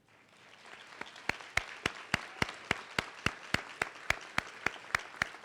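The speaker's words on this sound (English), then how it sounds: "please stand as we extend a round of applause" At an honors night ceremony, the audience applauds the faculty with sharp, evenly spaced claps. The claps build from quiet to a steady, fairly fast rhythm that sounds like a small, sparse group.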